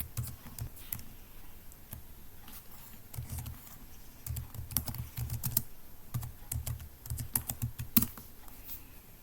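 Rapid computer keyboard typing while entering a command into the Windows command prompt, with irregular bursts of clacking keys and a few sharper single strikes, close and clear, with no voices.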